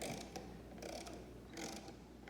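A wrench ratchets in short bursts of quick, quiet mechanical clicks while a telephone wall jack is being changed, fairly faint and close, with pauses between strokes and no voices.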